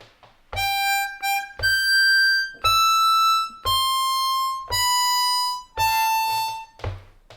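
A C harmonica plays a phrase of Happy Birthday alone, six clear sustained notes with short breaths between them and bright harmonic tones.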